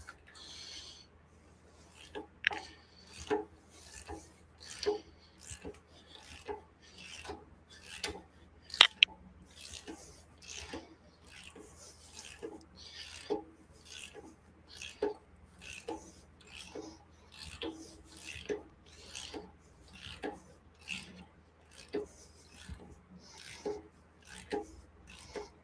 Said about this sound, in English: I'll grab the ratchet and the socket, and we'll just pull this thing on nice and gently